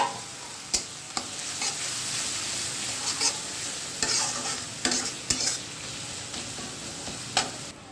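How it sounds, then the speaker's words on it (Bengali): Onion and crushed garlic frying in oil for a catfish curry, a soft continuous sizzle broken by sharp scrapes and taps of a spoon against the pan, close and with no voices. "পেঁয়াজ আর রসুন ভাজা হয়ে গেছে"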